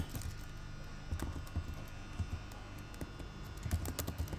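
Typing on a computer keyboard, scattered soft key taps at an uneven pace over a low electrical hum, close by with no talk.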